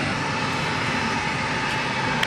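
Airplane engines at Santa Barbara airport give a continuous, fairly loud roar that holds steady for the whole stretch, with no talking over it.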